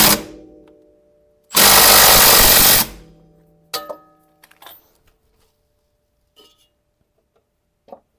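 Work on the two-way coilovers of a 2007 Subaru WRX wagon: a loud burst of impact-tool rattle loosens the nut, followed by scattered metallic clicks and clinks of parts and tools nearby.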